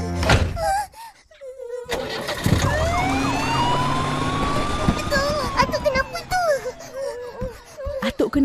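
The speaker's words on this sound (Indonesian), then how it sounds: "Ada ambulans ke rumah tu." An ambulance siren wails in a children's animated scene, its rising and falling tone sustained and fairly close, with other sounds mixed in.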